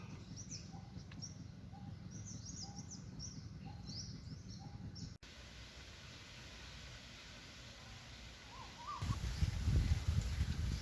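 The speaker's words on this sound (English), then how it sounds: "obviously there's lots of bird life here" Birds chirp and call in short, repeated bursts in the first half over steady background noise on an island near Phra Pradaeng in Samut Prakan, central Thailand. Later in the clip, only a few sparse calls come through a rising low rumble.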